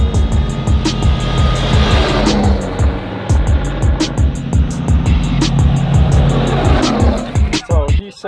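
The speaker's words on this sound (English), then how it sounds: "Class 10 car to come by." Class 10 off-road race cars roar past during the Baja 400 desert race, engines revving loud and close with repeated gear-shift pulses, passing one after another over a steady drone.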